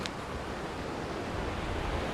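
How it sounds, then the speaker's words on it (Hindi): Ocean waves at Chorwad beach in Gujarat roll in as a steady, broad wash of surf, loud and continuous with a faint wind hiss throughout and no voices. "जब ये लहर टकराती है"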